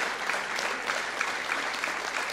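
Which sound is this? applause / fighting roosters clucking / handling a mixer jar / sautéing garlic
applause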